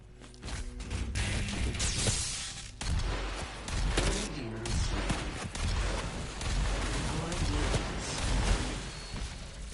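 Chaotic DOOM multiplayer combat on PS4 with repeated gunfire, rocket blasts and booms, loud and densely layered over about ten seconds, with sharp bursts early and sustained rumbling explosions afterward.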